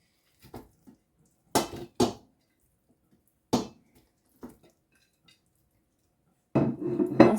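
Cut-up smoked chicken pieces drop into a saucepan in a few separate clanks and knocks, with short quiet pauses between them and a longer burst of clattering at the end.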